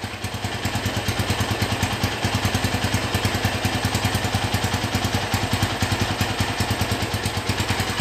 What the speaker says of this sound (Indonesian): Prima banget, stasionernya stabil dan mesinnya bener-bener pulen